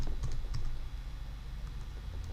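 Quiet, close keystrokes on a computer keyboard patter in quick irregular bursts, then thin out into a few scattered taps, with no voices.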